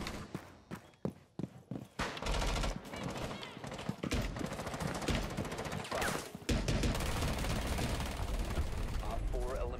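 Gunfire from Rainbow Six Siege gameplay, with Ela's gun firing in long, dense bursts after a few sharp separate shots, loud and close, while a voice talks over parts of it.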